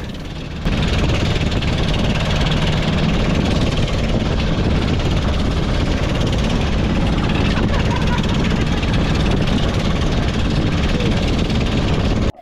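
A small boat engine drones loudly and steadily on a rough sea off Bantayan Island, Cebu, mixed with wind and rushing water, and a voice speaks over it.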